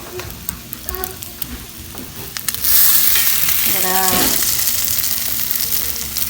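French toast sizzles and fries in a hot pan, a steady close crackle that swells louder midway, with faint clinks and brief tonal scraping over it; no talking.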